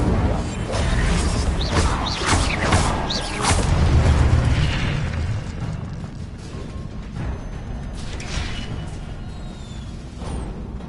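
Spellcasting in Hogwarts Legacy, with a Levioso lift followed by an Incendio fire spell, giving booming bursts and whooshing flame amid game sound effects and mechanical clatter, loud and near, with a voice speaking over it.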